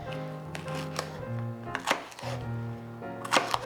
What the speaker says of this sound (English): And here, peppers, I would just cut them like big.